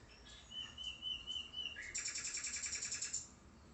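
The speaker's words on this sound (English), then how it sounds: "we've got the bird song in the background" Birdsong sounds faintly in the background of a room with pet cockatiels, with a few high whistled notes followed by a quick run of repeated rhythmic chirps, fairly quiet and with no talk.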